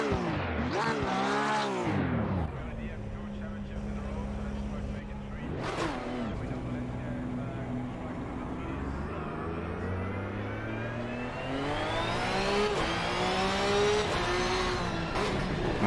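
A Porsche GT race car in Assetto Corsa Competizione revs through gears with a raspy, rising and falling engine note, loud and close, over someone talking.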